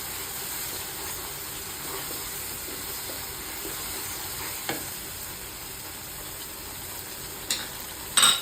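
Chicken sautés with a fenugreek spice paste in a hot pan, giving a steady close sizzle and hiss with a few scattered clinks of stirring near the end.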